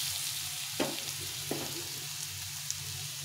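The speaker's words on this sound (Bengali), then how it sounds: "তো এইভাবে ভালো করে ভেজে নিতে হবে" Mustard greens frying with spices in a pan, a soft continuous sizzle with a few clanks of stirring, close and quiet.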